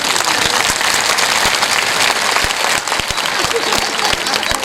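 Dense, steady applause from an audience at a Hindu Sanatan devotional discourse, loud and continuous with many overlapping claps throughout.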